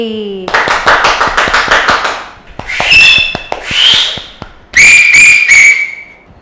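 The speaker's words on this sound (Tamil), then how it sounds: "கைதட்டல் அடங்குறக்கே அஞ்சு நிமிஷம் ஆச்சு விசில் சத்தம் காத்தை கிழிச்சிட்டு போச்சு" An audience at a Tamil stage event claps in a quick burst, then loud, shrill whistles cut through in several separate blasts. The crowd noise is close and loud.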